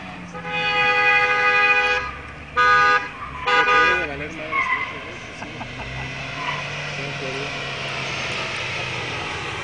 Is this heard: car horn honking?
yes